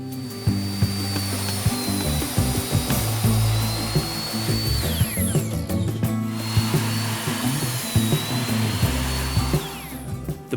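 A power saw cuts doubled-up wooden slats for a planter built from a 5 gallon bucket, a loud, steady whining drone with pitch dips as the blade bites in, running continuously and close with no talking.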